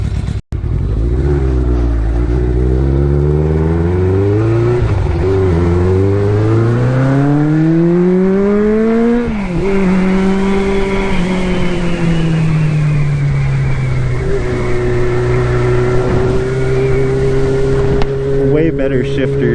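A Kawasaki GPz550 motorcycle revs and pulls away on a test ride, its engine note climbing, shifting and climbing again through several gears, then settling into a steady cruising drone, loud and close with wind rush throughout.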